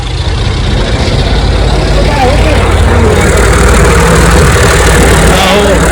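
A tractor's engine idles loud and close in a steady, unbroken low rumble, with voices talking over it.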